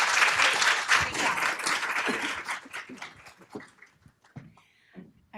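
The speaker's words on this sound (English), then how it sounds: "one more round of applause for Dr." Applause from a conference audience at a cord blood event in Arizona, a loud, full burst of many hands clapping that thins out into scattered claps and fades toward silence near the end.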